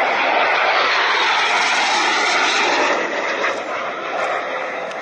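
A Spanish Navy EAV-8B Harrier jet flies at an air show, a loud, broad roaring engine wash that stays strong for several seconds before easing slightly as it passes.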